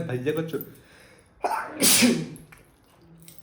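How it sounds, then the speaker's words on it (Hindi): One loud, close sneeze bursts out right after someone speaks briefly in Hindi, then the room goes quiet again. "एक मिनट गाइस छींक आ रही थी।"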